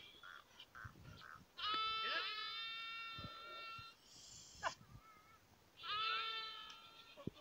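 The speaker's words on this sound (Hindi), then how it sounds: "ये बकरी के छोटे बच्चे कुछ देख सकते हैं आप।" Young goat kids bleat in a Thar desert hamlet near the India–Pakistan border, giving several drawn-out, wavering cries in two bursts, fairly close against a quiet background with no talking.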